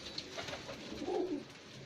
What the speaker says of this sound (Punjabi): ਇਹ ਕਬੂਤਰ ਹੈ